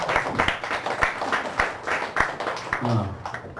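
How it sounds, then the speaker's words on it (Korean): Church congregation claps to welcome someone, uneven, moderately close clapping with audible individual claps and a voice near the end. "우리 박수로 소개하겠습니다"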